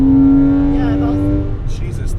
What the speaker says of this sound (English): I find myself revving just so I can hear that sound